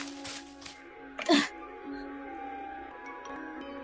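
A single sneeze bursts out in the middle of a stage drama performance, loud and close, with faint voices and a low steady hum around it.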